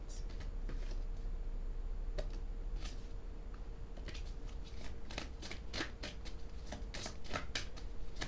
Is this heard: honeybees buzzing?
no